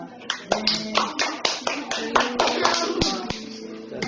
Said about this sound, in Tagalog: Palakpak mo naman.